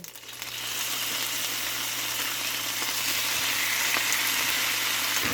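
Steady, crackling sizzle of chicken gizzards frying in hot oil, continuous and fairly loud, with a low constant hum of a noisy fan underneath.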